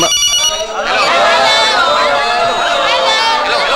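A telephone rings in a busy restaurant scene, a repeating ring heard over crowd chatter and overlapping voices.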